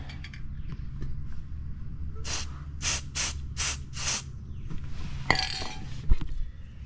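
Lubricant is sprayed onto a spherical bearing or heim joint in five short, sharp hissing bursts in quick succession, followed by a longer spray, with faint metallic clinks and handling noises around them.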